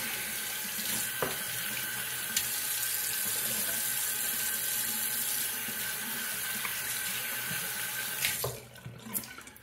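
Steady broadband rush of water from a tap rinsing the handle of a 30mm synthetic shaving brush, running continuously at close range before tapering off and stopping near the end, with no talking.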